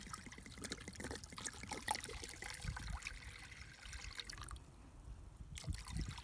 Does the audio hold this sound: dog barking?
no